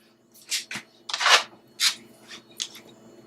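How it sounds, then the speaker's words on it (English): Parsley leaves are rubbed and crushed between bare hands, giving a few short, close, dry rustling bursts separated by quiet pauses. "I'm actually going to crush the parsley. Just take my hands like this and just rub it. Just roll the parsley."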